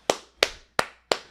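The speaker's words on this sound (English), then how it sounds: "Hold on, I got to clap it on him, too." Four sharp hand claps, evenly spaced about a third of a second apart, loud and close with no talking.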